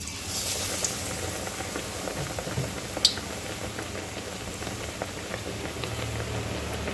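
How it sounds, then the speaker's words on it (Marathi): Bread pakoras fry in hot oil with a steady, close sizzle and bubbling crackle, an even rain-like hiss with one sharp pop partway through and no talking. "यामध्ये आपण आता आपले ब्रेड पकोडे सोडून घ्यायचे आहे."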